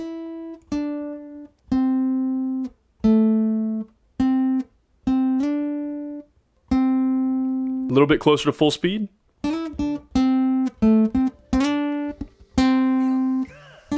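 An acoustic guitar picks a song's pattern in separate plucked notes with short pauses between them. A brief spoken remark breaks in partway through before the picking resumes at a quicker pace.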